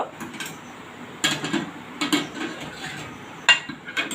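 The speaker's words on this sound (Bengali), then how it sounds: "এরপর ঢাকনাটা খুলে নিলাম" Metal clanks and clatters up close as a lid comes off a cooking pot during a village-style coconut fish dish, several short knocks and scrapes with a sharp ring near the end.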